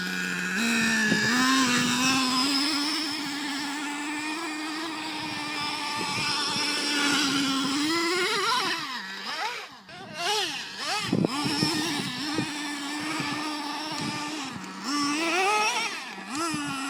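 A Traxxas Revo nitro RC car engine screams and revs up and down in a high buzzing whine, dropping and surging again as it races around, heard on old footage with no talking.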